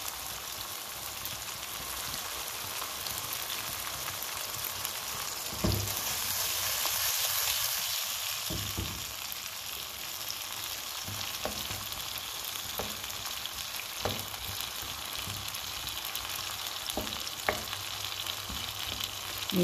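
Tuna and olives sizzle and fry with wilted cherry tomatoes in a pan, a steady broadband crackle throughout with a few louder pops and stirring clatters near and alone.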